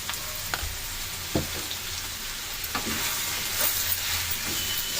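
Mushrooms with salt and coriander powder fry in a pan for fried rice, giving a dense, steady sizzle with occasional light stirring scrapes, close and even, with no speech.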